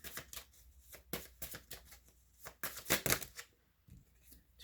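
Tarot cards are shuffled in quick, crisp riffling bursts, close and fairly quiet, with short pauses between flurries and no voice.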